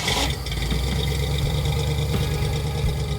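A Ford Ranchero engine idles steadily just after starting. It is loud and close, with a rough, even rumble and small irregular knocks. Its ignition timing had been set incorrectly.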